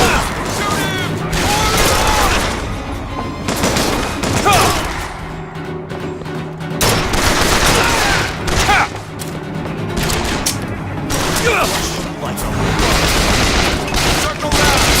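Dense gunfire in a Bioshock Infinite shootout, with bursts and booms rolling almost continuously, loud and close, while voices shout over the fighting.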